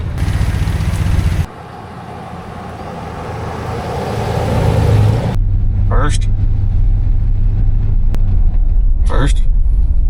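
A 1978 Chevrolet Silverado pickup with no brakes, a blown gas tank and a dragging brake rumbles along with its engine running, a low steady drone that swells as it gets underway. Voices and short knocks from inside the cab come through on top.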